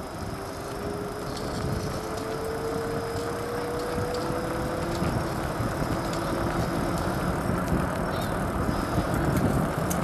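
An Offroader electric bike under more throttle gives a steady, broad whirring drone with a faint rising motor whine, constant and fairly loud throughout, with no voices.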